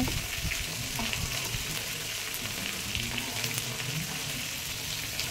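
Red chili powder and turmeric are sautéed in a pan for a mutton curry with papaya, giving a steady, close, loud sizzle with stirring throughout and no talking.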